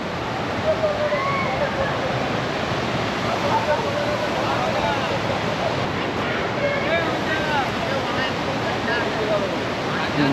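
A river pouring over a rocky, stone-filled bed at Jogighat, a loud, steady broadband rush of water with constant churning and no pauses.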